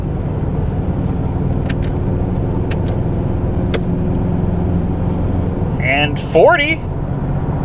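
A Ford Crown Victoria drives at about 30 mph with a steady engine and road rumble up close, shifting smoothly, while people talk over it.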